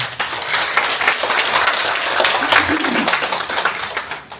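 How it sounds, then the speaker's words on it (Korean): Audience at a multicultural public seminar applauds in a dense, steady wash of clapping lasting several seconds. "이 모임을 지금 주최해 주신 우리 황진아 위원장님께 큰 박수 부탁드립니다"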